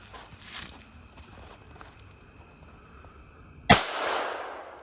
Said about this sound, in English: We're about to shoot these 156 grain lead round nose rounds into the pumpkin.